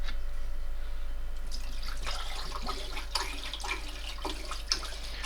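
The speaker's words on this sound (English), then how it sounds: "after a minute, I'm going to pour in my fixer" Fixer poured into a developing tank for 120 black-and-white film, a close liquid splashing and gurgling that builds after a quiet start, with a few sharper drips near the end.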